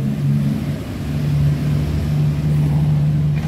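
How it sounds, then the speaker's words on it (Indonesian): A Honda Beat FI scooter's electric starter cranking with a fault where the kickstart gear engages too: a close, continuous steady whirring drone holding for several seconds, loud and alone. "Honda Beat Fi saat di starter, kenapa ini ikut nimbrung ya?"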